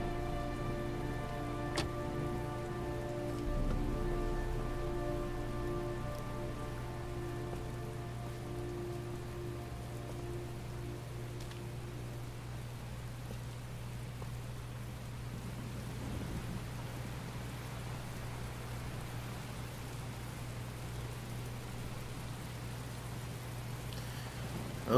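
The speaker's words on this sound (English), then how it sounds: "it's actually raining here right now, and it was thundering and a little bit earlier" Steady rain patters on surfaces throughout, a constant hiss of drops close by with a faint tonal hum beneath; no clear thunder stands out.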